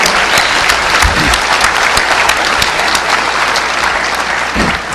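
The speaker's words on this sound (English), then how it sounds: "So give him a round of applause." A DEF CON hacking conference crowd applauds Agent X during an awards segment, a loud, dense, continuous roar of clapping filling the hall for the full five seconds, with a few heavier thumps near the microphone.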